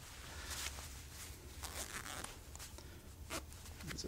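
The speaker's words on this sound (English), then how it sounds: "These little zippers are like little hideaway zippers." Small hideaway zippers on a VIKTOS Kruger tactical jacket are pulled in several quick, faint rasping strokes, close up against quiet background rumble.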